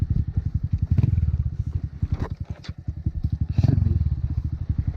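Motorcycle engine running close by with a rapid, steady low putter that swells and dips as the bike is turned around, with faint clatter mixed in.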